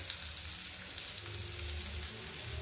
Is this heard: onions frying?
yes